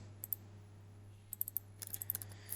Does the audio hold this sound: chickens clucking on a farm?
no